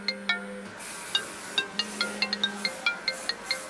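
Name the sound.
telephone ringing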